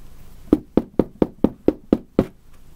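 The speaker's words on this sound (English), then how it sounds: "respectfully knock on God's courthouse door" Knocking on a door: eight sharp, evenly spaced raps, close and clear, with nothing else around them.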